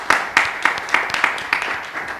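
A small audience claps for the singer, roughly eight distinct, evenly spaced claps, close and moderately loud, without cheering.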